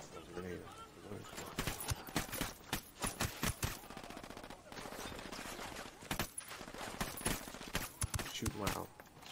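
Rapid gunfire in Ghost Recon Wildlands, dense bursts of automatic shots crackling almost continuously with brief pauses, loud and close, while voices talk over the shooting.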